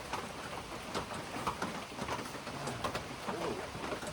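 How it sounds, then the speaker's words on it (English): Steady rain falls outdoors, a dense continuous hiss with scattered drips and patters, fairly quiet and constant throughout. "Still raining."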